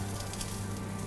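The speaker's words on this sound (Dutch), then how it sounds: "Die gaan we zo alleen nog even bakken samen met de paddenstoelen." Brussels sprouts and mushrooms fry in hot neutral oil in a pan, giving a steady, dense, fairly quiet sizzle that stays even from start to end.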